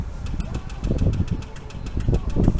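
A motor idles steadily with a low, rumbling chug and faint rhythmic ticking, a continuous mechanical drone close by.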